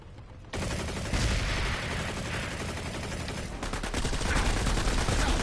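Sustained automatic gunfire in the video game Planetside 2, starting abruptly after a brief lull and then running as a loud, dense, unbroken rattle of rapid shots.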